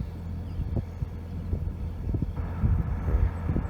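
Strong gusty wind of roughly 40 mph rushing across an open hay field at baling time, a steady low roar with buffeting bursts that grows rougher toward the end, no voices.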